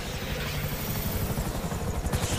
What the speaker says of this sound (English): FIB choppers, pick me up!